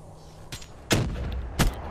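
Gunfire from the video game Black Ops 3, with a faint crack followed by two sharp, loud shots about two-thirds of a second apart, each one booming and then fading into a short low tail.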